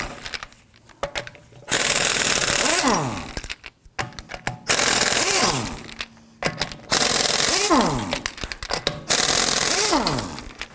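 A power tool with a 21mm socket spins lug nuts off a Toyota Camry's rear wheel. It fires in several loud, rattling bursts separated by pauses, and each burst ends with a falling whine.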